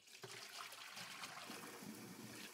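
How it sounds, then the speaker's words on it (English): Dirty water drains off rinsed chicken bones after a hot-water soak for stock, a faint, steady trickle and splash of pouring liquid running continuously without talk. "We remove the bones and then drain off the dirty water."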